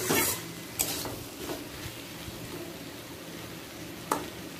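Pumpkin and potato curry stirred in a pan, with a few scraping strokes of a spoon against the metal over a low, soft sizzle, the loudest scrape at the start and another near the end.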